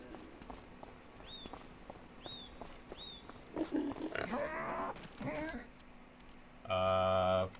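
Pigs in Farming Simulator 25 grunt and squeal in short bursts among footstep clatter, with a louder, sustained tonal sound near the end; a voice talks faintly in the background.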